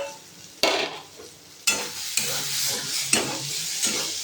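Vegetables frying in a pan for garlic butter Maggi noodles, with a steady sizzle broken by several loud scraping stirs of a utensil against the pan, close and alone.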